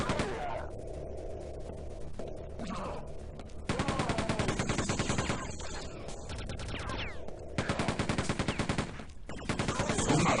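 Rapid bursts of laser fire from enemies in Quake 2, crackling in dense volleys that stop and start across the stretch, with a louder sustained barrage in the second half and a voice talking in between.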